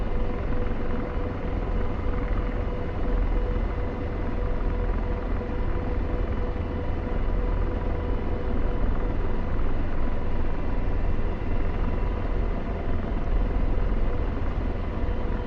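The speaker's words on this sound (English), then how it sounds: "Rotor RPM high." An AH-64 Apache helicopter in the DCS combat flight game spools up its rotor for takeoff, making a loud, steady, unbroken drone and whine that holds for the whole stretch with no voices.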